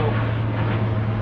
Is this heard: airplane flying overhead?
yes